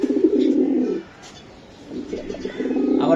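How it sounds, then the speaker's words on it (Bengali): Silver Giribaz pigeons coo nearby in two low, throaty bursts separated by a short pause. "এই কবুতর।"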